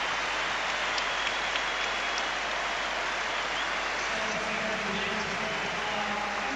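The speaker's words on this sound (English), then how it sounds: "And another big round of applause" A stadium crowd at the Emirates Cup match between Arsenal and Inter Milan in 2007 applauds a substitution. The noise is a steady, hissing wall of distant clapping and murmur that holds level for several seconds, with faint voices rising near the end.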